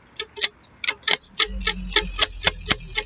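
A small homemade shaker rattling in quick, sharp bursts, about a dozen crisp shakes in an uneven rhythm, close up.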